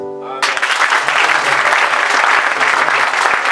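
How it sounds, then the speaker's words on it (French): A church congregation at a French-language worship service bursts into loud, sustained applause after a brief sung or spoken tone, the clapping dense and steady to the end. "Nous allons acclamer."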